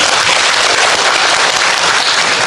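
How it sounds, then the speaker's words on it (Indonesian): Loud, dense applause from a crowd, continuous and steady for a couple of seconds. "Tepuk tangan."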